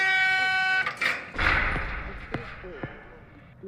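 An air horn is pulled in a short blast at the start, a loud steady honk that cuts off abruptly, followed by a few clunks and thumps.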